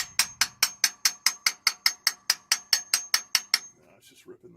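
About fifteen sharp, evenly spaced metal strikes of a hammer driving a punch during a car oil change, loud and close with a bright ringing edge, then a few softer clanks and scrapes as the hammering stops.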